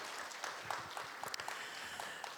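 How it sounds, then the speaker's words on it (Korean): A church congregation applauds newly baptized members at a Sunday worship service, a steady spread of many hands clapping at moderate level with a few sharper claps standing out. "우리 박수로 환영해 주시기 바랍니다"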